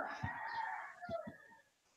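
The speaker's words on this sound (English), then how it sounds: "I can hear roosters." Roosters crowing outdoors in the morning, a short faint crow with a few low thumps, fading out at the end.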